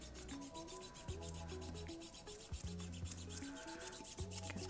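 Rhythmic rubbing on a craft trinket tray, quick regular back-and-forth strokes, steady and close over soft background music.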